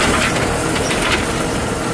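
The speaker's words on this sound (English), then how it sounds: "I'm starting to rake this contest field." Tractor pulling a hay rake across a contest field, a steady loud mechanical rumble and clatter filling the whole moment with no pauses.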